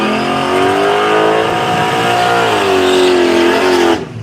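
Drag race cars roar down the strip at a Street Machine Drag Challenge, one lane holding a Pro Mod 1968 Camaro, engines loud, close and steady at high revs with shifting harmonics, then cutting off abruptly at the end.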